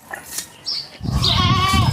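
A Friesian heifer calf calls out loudly in a sustained, wavering bleat-like cry, close by, following a few quieter thumps and rustles.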